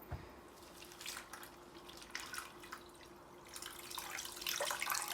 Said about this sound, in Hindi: और ऐड कर देंगे इसमें पानी।